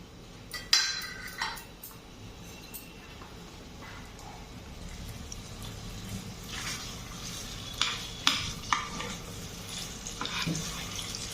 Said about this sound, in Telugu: ఈ బాండీలో వేసి దీన్ని కొంచెం ఫ్రై చేస్తే గట్టి పడుతుంది.